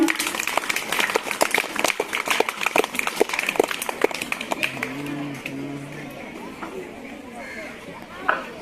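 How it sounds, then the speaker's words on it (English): Audience applause for students at a school English language club event, a dense patter of many hands clapping at moderate distance, fading out after about five seconds into a quieter room with some chatter. "Give a big clap for them."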